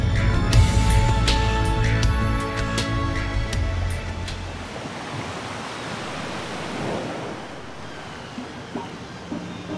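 Sea waves and breeze at a Tarragona beach make a broad, steady wash of surf and wind that takes over after music fades out in the first few seconds.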